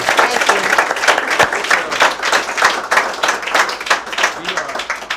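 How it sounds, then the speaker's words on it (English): An audience applauds two speakers at a talk, dense steady clapping from a crowd filling the room, with a voice or two cutting through. "Let's all give Dr. Cramer and Elliot a round of applause."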